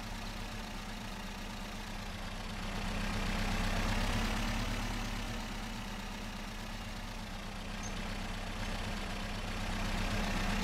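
A pickup truck's engine idles steadily in the mobile driving game Pickup, a low continuous rumble that swells slightly in the middle and stays constant, with no talk.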